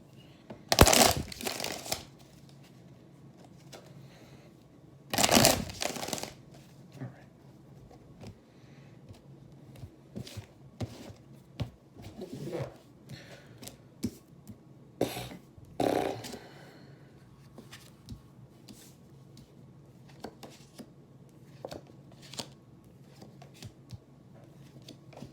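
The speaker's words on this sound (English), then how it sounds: "two more shuffles." Several bursts of tarot cards being shuffled up close, each a quick riffling rush, separated by quieter stretches of soft handling and light taps.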